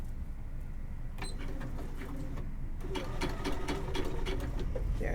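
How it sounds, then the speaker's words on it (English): A sewing machine back stitches the corner of a quilt binding at an angle, giving a close, rapid mechanical stitching rattle in short bursts against a quiet room background. "I'm going to stitch to the corner at an angle. See, I'm at an angle. I'm going to back stitch."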